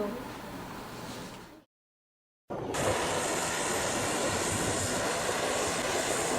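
Fixed-wing aircraft taxiing toward a parking stand at El Tari airport in Kupang, a steady broadband engine roar heard from fairly close, briefly cut to silence before resuming at a louder, constant level.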